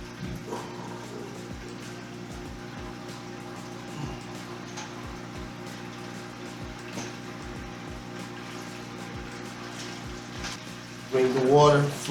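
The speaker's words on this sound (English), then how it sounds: "Bring the water from the bottom all the way up to the top through the grains for at least 5-10 minutes." Wort trickles and patters as it recirculates from the bottom up through the grain bed during a home brew of a New England IPA, soft and continuous over a low steady mechanical hum, with a brief louder burst near the end.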